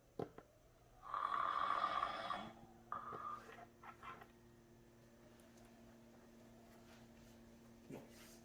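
A single loud snore with a buzzing, rattling tone, followed by a shorter one, then quiet breathing and low hum. Close and fairly soft.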